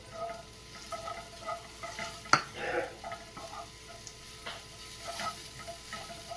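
Capsicum, peas, grated carrot and cabbage stir-fry quietly in a pan, a faint sizzle under irregular spatula scrapes and clicks, with one sharp knock early on.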